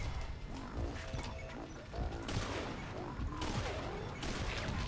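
A tank explodes in Metal Gear Solid 5: Ground Zeroes amid dense, continuous game chaos: crashing blasts, mechanical clatter and rattling gunfire-like bursts, loud and steady throughout, with no clear speech.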